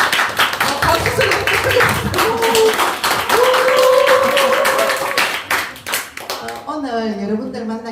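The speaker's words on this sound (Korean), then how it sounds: "박수 소리" Audience clapping at a Korean literary talk concert, brisk applause from a gathered crowd running under a voice speaking, then easing off as speech carries on alone.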